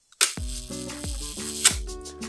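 Film camera shutter firing during a shutter speed test on a DIY Arduino tester: a few close, sharp mechanical clicks and whirring, ratchet-like rattles in quick succession, alone and fairly quiet.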